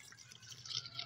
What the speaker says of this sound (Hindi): हम पहले इसके अंदर पानी डालते हैं,